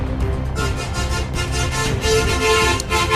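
Car horn honking on a street, loud sustained toots layered over a running vehicle engine close by.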